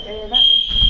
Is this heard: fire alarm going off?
yes